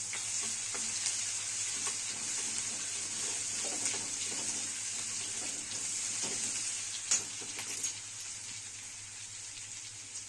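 Ginger-garlic-coriander paste frying in a pan with cumin and curry leaves, a soft but steady hiss with occasional stirring scrapes and a couple of louder crackles late on.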